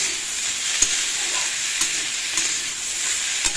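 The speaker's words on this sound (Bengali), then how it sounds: "আমি যা একটু লবণ হলুদ দিয়ে নাড়াচাড়া করে আর নামার সময় হালকা একটু মিষ্টি দেবো" Vegetable curry seasoned with salt and turmeric sizzles steadily in a pan, with a broad hiss and a few soft knocks of stirring spaced about a second apart, close and alone with no talking.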